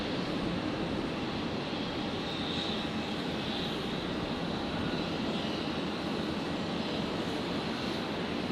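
A departing airliner taking off at Brisbane Airport, its engine roar steady and loud across the whole stretch, a broad continuous rumble with no talk over it.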